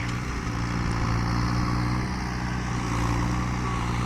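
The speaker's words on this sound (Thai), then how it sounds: "นี่ทางนี้รถไถก็" A tractor engine drones steadily and loudly while it pushes earth to dig a pond, a constant mid-pitched hum with no pauses.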